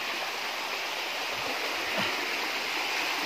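A small creek swollen by flooding rushes with a constant, dense wash of flowing water. It sounds close and steady, with no talking.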